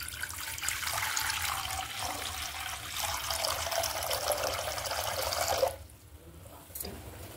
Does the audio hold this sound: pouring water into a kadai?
yes